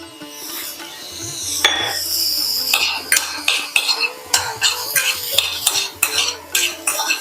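Metal utensil scraping and clinking against a pan in repeated stirring strokes, close up, with a faint sizzle underneath and no talking, as vegetables and yellow corn are sautéed for a sprouted ragi vegetable soup.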